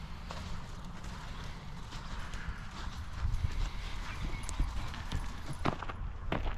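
Horses' hooves clip-clop steadily on the ground as riders weave in and out at a ranch horsemanship clinic, a dense, continuous patter of close hoofbeats with a few sharper strikes near the end.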